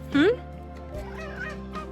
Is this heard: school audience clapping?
no